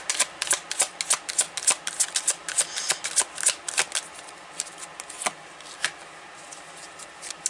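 Tarot cards being shuffled by hand, a quick run of crisp riffling flicks and slaps, close and fairly loud at first, then thinning out into sparser, softer flutters.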